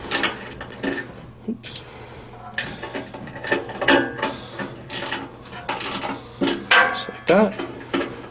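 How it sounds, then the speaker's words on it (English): Socket ratchet snugging the igniter bolts on a Harman pellet stove, heard as short bursts of clicking ratchet and metal handling spread across the clip, close by, with brief talk in between. "Grab my socket and my ratchet."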